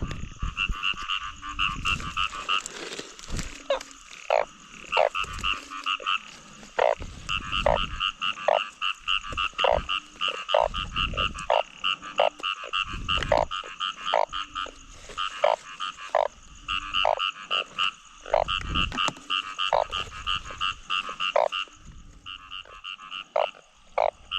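Narrow-mouthed frogs calling at night in Thailand, a dense chorus of repeated nasal croaks with steady overlapping pulses from several animals, loud and close throughout with no voices.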